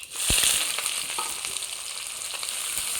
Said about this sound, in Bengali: ফোড়নে, আর দেবো পেঁয়াজ।